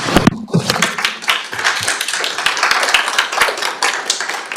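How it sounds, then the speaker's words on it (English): An audience clapping for a speaker at a public community development hearing, a burst of many hands that fades into scattered, lighter claps with some room murmur underneath. "I know you want to clap for your friends"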